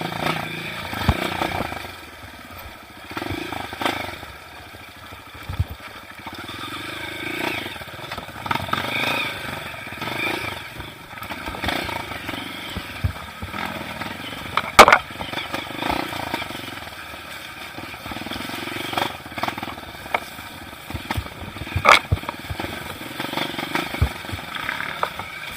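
A dirt motorcycle rides a muddy trail near waterfalls at São Lourenço, its engine droning and rising with rough revs and sharp knocks from the terrain throughout.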